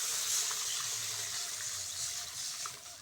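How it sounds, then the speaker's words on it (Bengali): Water poured into a pan of oily, spicy fish curry, a steady soft gushing splash that holds evenly for a few seconds with no voices. "এবার দিয়ে দেবো জল"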